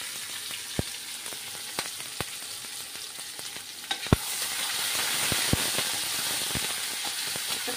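Curry leaves, crushed ginger and green chilli fry in hot oil for a spicy misal tempering, giving a continuous hiss and sizzle with sharp crackles and pops that swell louder in the second half.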